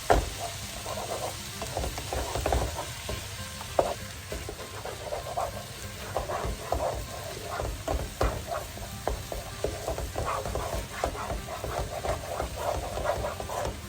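Fried rice with pork and vegetables being stirred in a hot pan, a steady sizzle under repeated scraping and clattering of a utensil against the pan, close and continuous with no talking.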